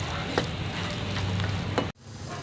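Soya chunk masala fries in a hot pan and gets stirred, a steady close sizzle running throughout with a few spoon scrapes, ending with a brief pause as the stirring stops.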